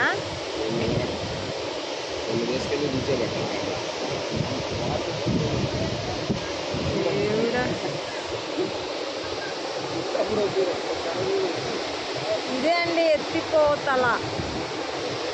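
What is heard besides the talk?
waterfall in full flow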